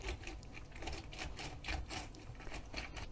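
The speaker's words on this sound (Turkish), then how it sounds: "Onu da şöyle limon sıkacağımla beraber sıkıyorum." A lemon is pressed in a hand lemon squeezer, giving close, continuous rubbing and creaking with a quick, uneven rhythm and no talk.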